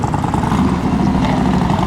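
Yamaha XV 1700 motorcycle engine running steadily at low revs during a riding course attempt, a continuous loud mid-low rumble without pauses.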